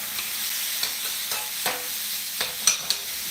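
Steak sizzling steadily in a hot frying pan, with several sharp scraping and clattering bursts as it is stirred and flipped over, close and fairly loud with no talking.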